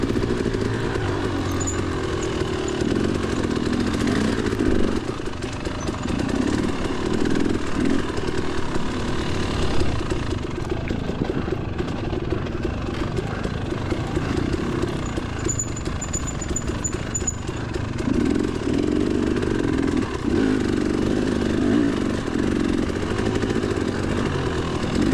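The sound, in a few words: dirt bike engine running during a motocross race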